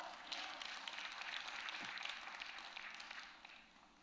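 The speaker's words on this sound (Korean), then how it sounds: "박수!" A congregation at an early-morning church prayer service claps together, a faint, distant wash of steady applause lasting a few seconds with no voices over it.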